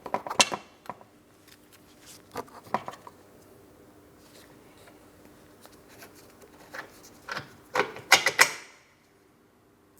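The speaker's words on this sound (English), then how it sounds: "I'm using my wrench up along the top." A wrench works a 21mm mounting nut on the front lower control arm of a 2004-2008 Pontiac Grand Prix, giving scattered metallic clicks and ratcheting taps in short bursts with quiet gaps between.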